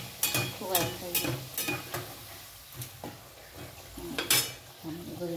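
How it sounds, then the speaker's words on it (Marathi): Puris fry in oil in a kadhai, with a soft sizzle under repeated sharp scraping and clinking of a utensil against the pan in short bursts, fairly close. "या कढईमध्ये हे जरा ठेवते आम्ही जास्ती"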